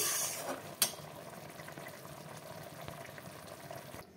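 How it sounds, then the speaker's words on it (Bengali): Vegetable pakoras simmer in bubbling veg manchurian gravy, a quiet, continuous burble with a brief splash near the start. "পকোড়াগুলোকে কিছুক্ষণ ফুটতে দেব, তারপরে আমি নামিয়ে নেব"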